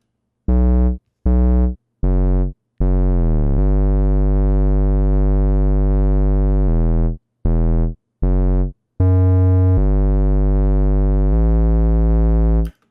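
A San Holo style future bass 808 synth patch built in Serum plays a sequence of loud, clean sustained bass notes with short stabs and a gliding pitch bend, heard alone with no talking.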